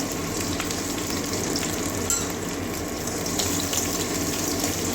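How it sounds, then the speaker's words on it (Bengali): Black cumin seeds, chopped onion and green chilli sizzle steadily in hot oil, a continuous close frying hiss with no talk, as the base for a pointed gourd peel paste. "এবারে কালো জিরে ফোড়নে দিয়ে দিচ্ছি একটা পেঁয়াজ কুচি পেঁয়াজ কাঁচা লঙ্কা"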